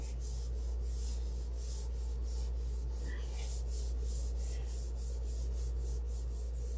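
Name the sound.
hand rubbing and sanding a wood finish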